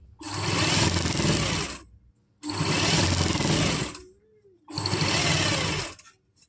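Sewing machine stitching a frock sleeve for an umbrella frock with piping, running in three loud, steady bursts of about two seconds each, separated by short pauses.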